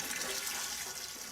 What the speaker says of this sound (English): Place the cooking pan on the fire and partly fill it with water.